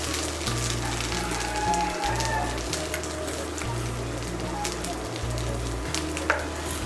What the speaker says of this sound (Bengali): চালের সঙ্গে মিশিয়ে নিয়ে চালটাকে মশলার সঙ্গে একটু ভালো করে কষিয়ে নেব